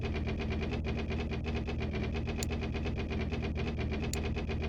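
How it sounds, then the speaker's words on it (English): A truck engine in the game My Garage gives a steady, low drone with a faint rhythmic knock, running continuously and fairly loud with no voices. "engine sound."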